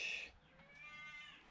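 A hungry cat lets out a short, bright meow right at the start, followed by a fainter, drawn-out mewing whine close to the microphone in a quiet indoor room.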